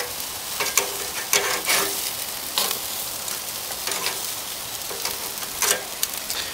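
Salmon fillets sizzling on a hot grill as they are flipped, a steady crackling hiss broken by several louder sputtering bursts as each piece turns over, close and with no talking.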